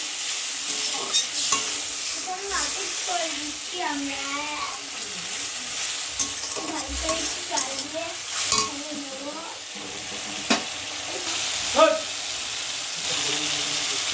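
A little water poured into a hot pan of melted tomatoes for a fish curry brings a soft sizzle and bubbling, with a spoon stirring and clinking at intervals, close by, while a voice talks quietly over it.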